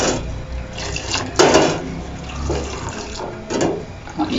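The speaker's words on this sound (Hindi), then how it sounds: "अब हम इसमें दूध डालेंगे।" Thick milk is poured into boiling jaggery tea, giving close, gurgling liquid splashes in a few uneven bursts over a low simmering background, with no speech.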